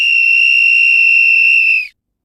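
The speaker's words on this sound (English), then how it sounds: "One long whistle, was followed by silence" A single long whistle outside a tent in the woods at night, loud and steady with an even pitch, held for about two seconds before ending cleanly into silence.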